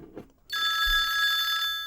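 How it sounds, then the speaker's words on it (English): A telephone bell rings loudly and continuously for about a second and a half after a brief moment of quiet, its bright metallic trill steady and close with no talk over it. "that's the phone ringing"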